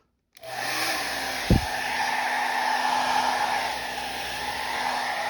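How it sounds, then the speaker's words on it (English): A hair dryer starts up abruptly and blows with a steady, loud whooshing whine at a classic Big Block Dodge car's ammeter, with a brief low thump early on. "I'll be back with the hairdryer"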